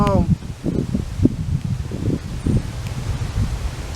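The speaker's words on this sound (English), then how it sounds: "Still good on the camera getting kind of windy." Gusty wind rumbles and buffets the microphone at the Colosseum, mixed with rustling, while a person talks over it.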